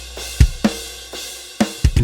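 Unmixed MIDI drum samples play a sparse groove of dry kick and snare hits over a faint cymbal wash, with no talking.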